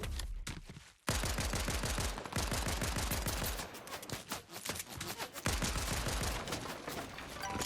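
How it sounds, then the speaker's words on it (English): Minigun in the game Fortnite Bed Wars, loud rapid sustained bursts of automatic fire with dense repeating cracks, briefly pausing and dipping midway before resuming. "They're using a minigun"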